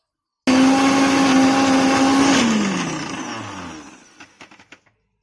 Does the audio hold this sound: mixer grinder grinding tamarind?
yes